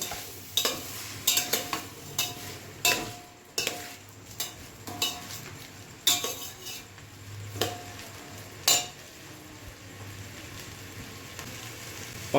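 Vegetable pulao is stirred in a pan, and a spatula scrapes and knocks against the metal in irregular bursts over a soft background sizzle. The clatter comes close and without talk, busiest early on and thinning out toward the end.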